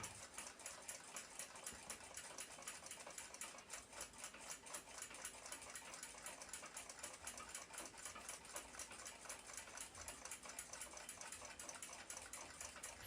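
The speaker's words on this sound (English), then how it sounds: "I'll taper the head on the lathe." A metal lathe turns steadily while tapering the head of a small screw during an Austrian Zriny clock restoration, a continuous fast whirring hum with a rapid mechanical rattle that holds at a constant level throughout, with no talking.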